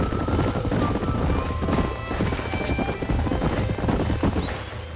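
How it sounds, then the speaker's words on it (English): Horses in the Red Dead Redemption video game clip-clop steadily up close, and a loud neigh rings out over the hoofbeats, with faint game voices in the background. "These are fine horses."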